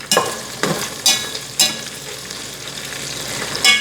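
Bacon fries and curls in a pan, a close, steady sizzle punctuated by four or five sharp scraping strokes at roughly even intervals, with no voices.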